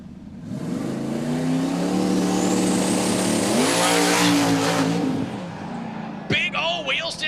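A twin-turbo 2000 hp Mustang drag car launches hard into a wheel stand, its engine roaring loud and close as it rises in pitch for several seconds, then fading as an announcer starts talking over it.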